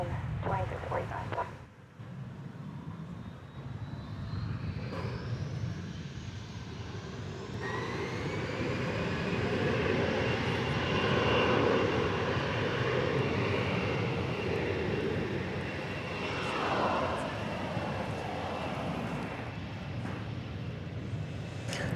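An Emirates airliner arrives at DFW Airport, its engines building into a loud, sustained roar with a rising whine as it passes, heard from outdoors with a person talking at moments.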